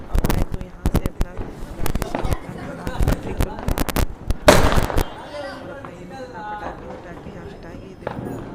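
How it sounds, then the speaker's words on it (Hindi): Diwali firecrackers set off in a street, a rapid burst of sharp cracks and bangs during the first five seconds, one louder blast near the middle, then fading crackle with voices talking in the background. "पटाखे यहाँ छुटाएंगे। देखो छुटाने की कोशिश कर रहे हैं"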